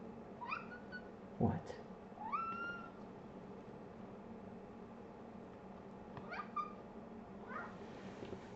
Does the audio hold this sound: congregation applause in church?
no